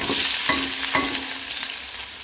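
Onions sautéing in oil and ghee with cinnamon and cloves for a country chicken biryani, a continuous close sizzle with a few soft stirring scrapes and no talking.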